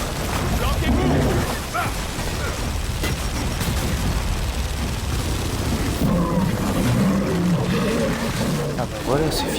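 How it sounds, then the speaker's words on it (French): An explosion in the video game Gears of War 4 rumbles as a dense, roaring burst of low booming noise that continues for several seconds amid chaotic game sounds. "Attention à l'explosion."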